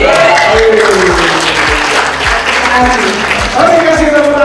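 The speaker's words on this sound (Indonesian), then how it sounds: "Oke, kasih tepuk tangan." An audience at a product soft-launch event in Indonesia applauding, dense sustained clapping from a room full of people, loud and continuous, with a voice booming over a sound system on top.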